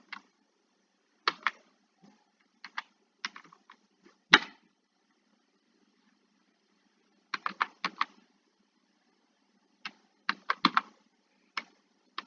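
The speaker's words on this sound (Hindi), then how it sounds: "चलिए यहां पर इसको मैं टाइप कर देते हैं" Typing on a computer keyboard: scattered bursts of crisp close key clicks with pauses between groups and one heavier key strike, in a quiet room.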